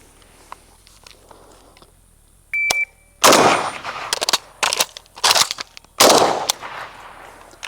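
AK rifle being reloaded against the clock, with a sharp metallic click of the magazine change followed by several bursts of close, loud gunfire separated by brief pauses; no talking.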